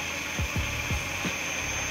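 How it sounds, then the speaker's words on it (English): A steady high-pitched drill whine runs throughout as it buffs a Toyota Sequoia headlight, with a few low thumps of contact against the lens. "we're just gonna start up the drill and let the drill do the work"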